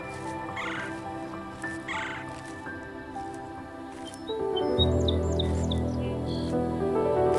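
A magic hen in a Bengali cartoon clucks and chirps in a quick run of squeaky calls, which enter partway through over steady background music.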